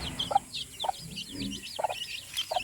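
Chickens and chicks at a rural backyard farm in the Philippine countryside, several short clucks and chirps in quick bursts, near and fairly quiet.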